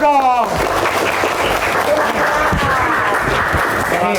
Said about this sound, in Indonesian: Biasa tepuk tangan dulu dong.